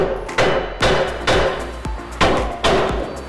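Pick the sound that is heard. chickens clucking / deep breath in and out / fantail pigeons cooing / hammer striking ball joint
hammer striking ball joint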